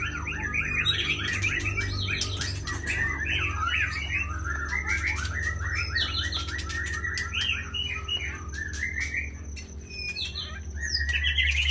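Several white-rumped shamas sing at once at a bird farm in rich, varied whistles and trills over a steady low hum, continuous and lively, with no talking.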